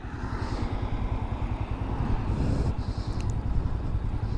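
A 400cc motorcycle engine rumbles steadily during a test ride, a close, continuous low throb at a fairly even pace.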